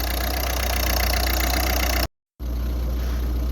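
A Ford Focus 3 1.6 TDCi diesel engine idles unevenly after a fuel filter change, a low rumble and mid-range hum, cutting out abruptly for a moment before the idle resumes.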